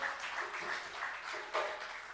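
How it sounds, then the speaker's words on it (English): Faint, distant applause from an audience at a UNC cottage political meeting rises and falls steadily for about two seconds, with a brief louder swell near the end and no clear talk over it. "give them a round of applause"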